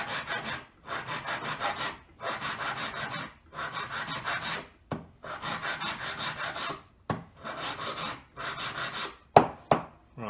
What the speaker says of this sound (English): it takes more filing than you'd imagine sometimes